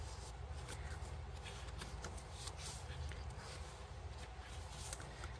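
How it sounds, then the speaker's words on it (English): A paper page in a shabby chic peony journal is folded and tucked away, giving soft, faint rustling and shuffling sounds close by. "just fold it back up and tuck it there away"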